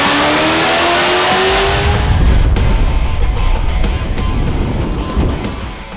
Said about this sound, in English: doing a burnout on a dyno.